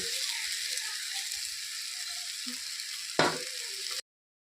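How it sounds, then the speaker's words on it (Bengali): Fried potatoes and rice added to masala frying for a rohu fish-head muri ghonto, a loud steady sizzle with one sharp scrape or clank near the end before it cuts off abruptly. "এখন দিয়ে দিব ভেজে রাখা আলু আর চাল।"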